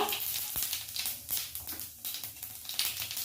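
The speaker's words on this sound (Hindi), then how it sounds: "जीरे को अच्छे से तड़कने देते हैं।" Cumin seeds crackle and sizzle in hot oil in a kadai, close and continuous, with sharp pops scattered through the frying hiss, as the base for a kakoda sabzi.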